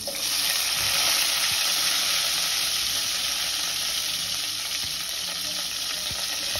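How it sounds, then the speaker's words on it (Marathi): Onion dropped into hot oil for a cabbage dish fries with a loud, dense, steady sizzle and hiss close to the pan, with a few faint stirring taps underneath. "आपलं कोबीसाठी आता तेल गरम झालेलं आहे. तर ह्याच्यामध्ये आता कांदा टाकून घेऊया आपण."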